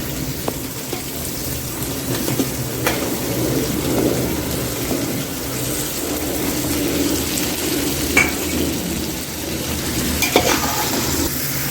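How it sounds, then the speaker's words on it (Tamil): Chicken fries with masala paste for biryani, a loud continuous sizzle and crackle with occasional sharp clinks of the stirring spoon against the pan, no speech. "நம்ம இதில் எடுத்து வச்சுருக்க சிக்கனை போட்டுடலாம்"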